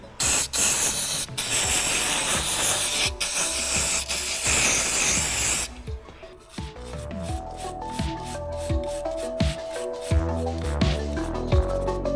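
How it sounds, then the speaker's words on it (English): Brake cleaner sprays in a loud, continuous hiss onto the rear brake caliper of a Mercedes C-Class W205 C300, then a wire brush scrubs the metal in quick, rhythmic strokes up close. "I will just use some basic brake clean and a wire brush"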